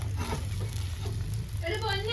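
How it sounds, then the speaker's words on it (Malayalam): An egg fries in a pan at home with a soft, continuous sizzle and crackle, and a voice joins near the end. "ഞാൻ മുട്ട മാത്രം പൊരിച്ച് തിന്നാന്ന് കൊണ്ട് തീരുമാനമെടുത്ത് ഞാൻ തന്നെ പൊരിക്കാൻ തുടങ്ങി"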